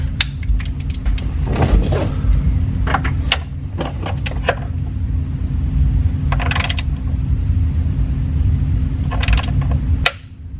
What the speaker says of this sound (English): Okay, we have the torque wrench set for 22 foot-pounds of torque.